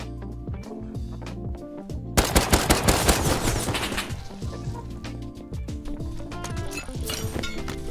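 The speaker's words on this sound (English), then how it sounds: "I heard some shots coming from airfield." Rapid bursts of automatic gunfire crackle in the Rust video game, a loud volley that fades into scattered distant shots and in-game ambience.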